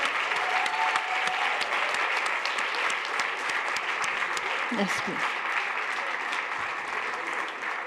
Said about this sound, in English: really a big round of applause for everyone